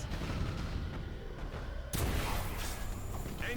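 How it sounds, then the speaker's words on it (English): Torpedoes and weapons fire in the space-combat game Battlefleet Gothic: Armada: a continuous dense rumble of booming fire, jumping louder around the two-second mark into a heavier barrage with no speech. "we're about to fire another batch of torpedoes again"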